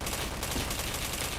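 Rapid bursts of gunfire from a shooting video game, dense and continuous with a loud, crackling texture throughout, no voices over it.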